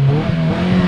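A car engine revs hard during an exhaust sound check, giving a loud, continuous throaty drone with steady pitch through the short burst.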